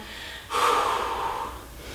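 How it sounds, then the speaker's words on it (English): Heavy exhaled breath during a bodyweight full-body workout, one long gusty breath rising sharply and tapering off over about a second, close and fairly loud, with no talking. "Calm that breathing."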